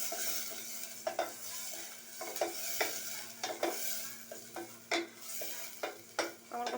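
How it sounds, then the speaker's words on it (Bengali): Onion and garlic frying in a little oil, with a steady sizzle beneath repeated scraping strokes of a spoon stirring the pan, close and moderately loud, no voices. "হালকা একটু ভেজে নেব।"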